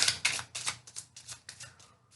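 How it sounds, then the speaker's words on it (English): Tarot cards being shuffled by hand, a quick run of soft, papery riffles and flicks in uneven bursts, close but faint, fading toward the end with no talking. "One more shuffle."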